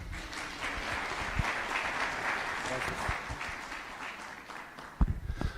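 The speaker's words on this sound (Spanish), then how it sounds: "Le recibimos con fuertes aplausos" Applause from a church audience welcoming a pastor at a CLF session in La Paz, Bolivia: steady dense clapping fills the whole stretch at a moderate distance, with a few sharper claps near the end.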